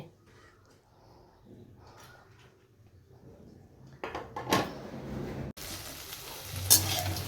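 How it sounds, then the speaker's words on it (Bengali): Potatoes and okra frying with onion and green chilli in a pan, a soft sizzle with occasional stirring and clatter, quiet at first and growing louder and busier toward the end. "এখানে হচ্ছে পেঁয়াজ কাঁচা লঙ্কা দিয়ে আলু ভেন্ডি ভাজা"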